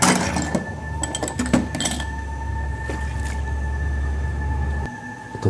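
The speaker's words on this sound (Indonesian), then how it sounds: "saya diganggu dengan suara cuci piring" Dishes clink and clatter in a series of sharp, close knocks over a steady low hum, busiest early on, then thinning to a few isolated taps.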